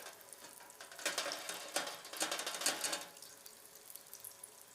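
Mac and cheese bites frying in oil give soft, steady sizzling and crackling, with bursts of louder popping in the middle before settling back to a gentle fizz.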